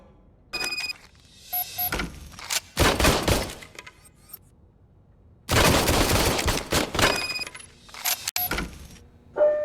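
Service pistol gunfire from Robocop: Rogue City arrives in loud, sharp bursts of rapid shots separated by silent gaps, with small metallic clicks between the volleys.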